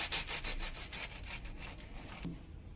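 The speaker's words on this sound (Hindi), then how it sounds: "तो ये हम ब्रेड नाइफ से इसको कट कर लेते हैं। आवाज सुनिए," A bread knife saws through a toasted soya and potato sandwich with quick, rhythmic crunching strokes, faint and close up, ending with a soft thud.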